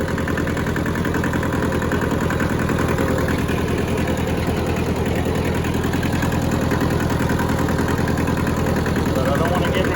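Engine of a rusty Hinomoto tractor mowing in four-wheel drive, a steady close idling chug at low revs that holds its even, continuous rumble throughout with no voices.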